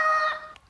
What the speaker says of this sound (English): Wonder what kind of sound a Humpty bird would make.